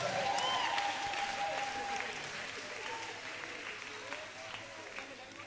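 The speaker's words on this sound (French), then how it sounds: "Applaudissons pour le Seigneur." Applause from a congregation during a church service, fairly faint and diffuse, fading gradually over several seconds, with a voice speaking over it in places.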